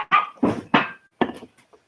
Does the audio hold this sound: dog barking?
yes